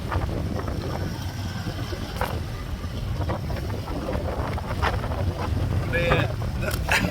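Strong wind from a cyclone buffets the microphone in a constant rushing roar with rain, muffled voices faintly underneath and occasional sharper gusts.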